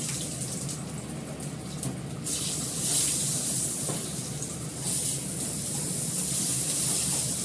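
Nigella seeds (kalo jeere) hit hot oil for tempering a fish dish, producing a loud, steady, close hiss and sizzle that swells slightly partway through and runs continuously with no talk.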